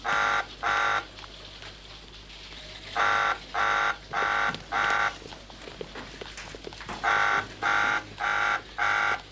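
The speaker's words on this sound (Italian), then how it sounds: "Questo è un allarme rosso, situazione di emergenza interna." Red alert emergency alarm buzzer inside a base, sounding in harsh, evenly spaced pulses, groups of two and three bursts separated by brief pauses, fairly loud over a low hum.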